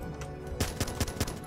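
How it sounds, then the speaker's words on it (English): A gun fires in the Minecraft Crafting Dead video game, four evenly spaced shots in a quick rhythm, close and fairly loud, following a brief quieter lead-in. "Let's just listen to this gun."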